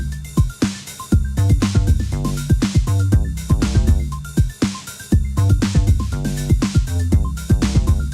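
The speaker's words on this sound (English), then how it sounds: "the bass line pattern sounds like this" A punchy synth bass line from a recreation of a track repeats a syncopated pattern of short and sustained low notes over a steady drum beat, loud and upfront.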